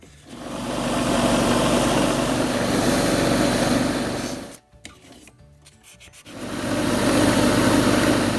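A steady rasping whir of a wood lathe spinning a segmented ebony and olive wood pen blank, with sandpaper rubbing against the turning wood, pausing briefly midway, then resuming.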